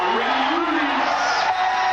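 Crowd at the 1994 AVP Cuervo Gold Clearwater Open beach volleyball event, cheering and whooping in a steady broad roar after an ace, a commentator talking over it.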